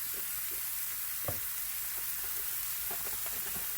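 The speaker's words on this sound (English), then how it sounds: "I'm going to let this meat go ahead and start cooking" Roast beef and vegetables frying in a pan, a constant hissing sizzle with a few faint scrapes and pops, steady and moderately close, with no talking.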